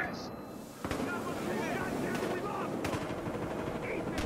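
Gunfire rattles in a Team Deathmatch round of the video game Battlefield Hardline, with bursts of shots over constant busy battle noise and a voice talking through it.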